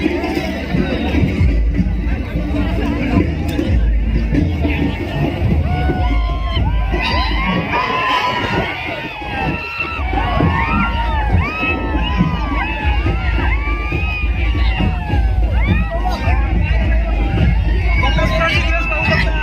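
A large crowd mills and chatters in Chiplun, gathered to see Bakasur, a famous racing bull; dense babble, shouts and cheers from many voices fill the air continuously, with children calling out above the steady hubbub.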